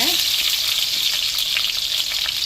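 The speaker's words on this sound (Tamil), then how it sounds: "பாருங்க, இந்த அளவு வெங்காயம் வதங்கிடுச்சு" Onions fry in hot oil with cinnamon, dried red chilies and curry leaves for a pepper oyster mushroom stir fry, giving a loud, dense, continuous sizzle that fills the whole moment with no voices.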